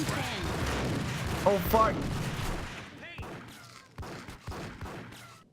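Heavy gunfire in a Max Payne shootout, with dense overlapping shots early that thin out into a few scattered loud bangs as the action settles, and a man swears briefly.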